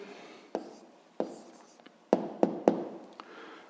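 A pen writes a math answer by hand on paper: soft scratchy strokes broken by several sharp taps as the pen meets the page, close and quiet with no talking.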